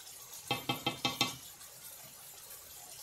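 Mutton with Kashmiri red chili powder fried and stirred in a pot: five quick rhythmic scraping strokes of a spoon against the metal over a faint steady sizzle, then quieter frying.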